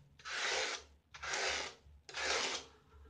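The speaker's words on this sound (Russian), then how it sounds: "Я беру обычный канцелярский нож и тыльной стороной лезвия, то есть не режущей кромкой, а обратной, делаю насечки вот такими движениями." The blunt back of a utility knife blade drags across insulation material in three slow, even scraping strokes, each about a second long, quiet and close with no talk.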